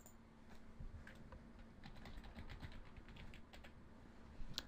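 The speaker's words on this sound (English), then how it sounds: "I'm just going to type in my password now." Password being typed on a computer keyboard: a steady run of light, close key clicks with irregular rhythm over about five seconds, ending in a slightly louder keystroke, with no voices.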